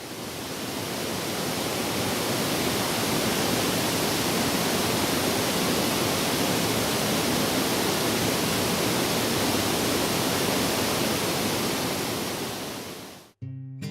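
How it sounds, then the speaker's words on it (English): Hooker Falls in DuPont State Forest roars with a steady, dense rush of falling water, loud and unbroken for the whole stretch before cutting off abruptly at the end. "sound of the waterfall"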